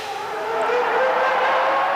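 Ferrari Formula 1 car at Monza during the 1996 Italian Grand Prix, a loud high-pitched engine whine building steadily over two seconds as it passes near, with crowd noise beneath.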